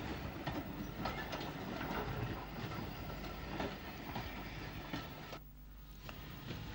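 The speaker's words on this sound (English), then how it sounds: "an F6 class 242 tank dating from the 1890s, shunts some stock under the unusual elevated signal box at Albert Quay" An 1890s Irish F6 class tank steam locomotive shunts stock at Albert Quay station in County Cork, with a steady rumbling roll and clanking of wheels and wagons heard from close by.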